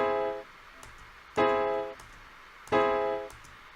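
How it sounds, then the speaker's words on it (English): Two sustained augmented chords, each struck cleanly and left to ring and decay, with a faint tail of an earlier chord at the start; the harmony is tense and dissonant, heard alone without talk. "This is called an augmented chord."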